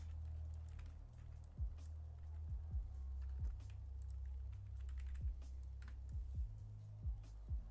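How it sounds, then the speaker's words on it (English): Quick, clacky keystrokes on a computer keyboard tap out in irregular bursts over a low steady electrical hum, fairly close and distinct. "Sorry, I know my typing's loud."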